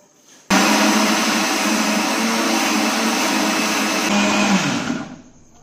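A kitchen blender grinds garlic, ginger and green chillies into a paste, a loud steady motor whir running continuously for about four seconds before winding down to a stop.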